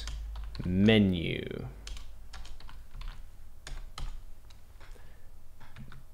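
Typing on a computer keyboard while naming a new sprite in Scratch: a run of sharp, irregular key clicks spread through the clip, with a brief spoken word near the start and a steady faint background.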